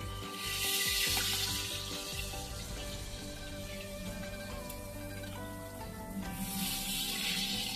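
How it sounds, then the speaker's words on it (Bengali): Catla fish pieces frying lightly in a pan over a medium flame, a steady broadband sizzle with crackling spits and faint clinks throughout, no voices. "হালকা একটুখানি ভাজবো মিডিয়াম ফ্লেমে রেখে মাছগুলো ভাজবো"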